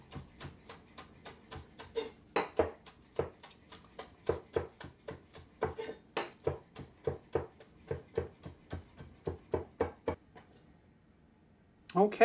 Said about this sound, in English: I want to start by chopping up some onions or green onions.